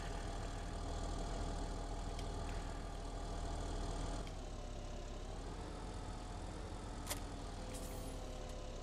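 A vehicle engine idles steadily and continuously with its exhaust running, a dense even rumble that stays level throughout, with a couple of brief sharp clicks near the end and no talking.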